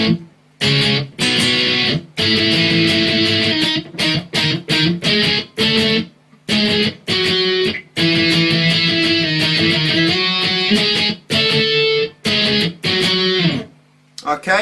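An electric guitar plays the intro to a song, loud distorted octaves and power chords struck in choppy bursts with short silent gaps between phrases.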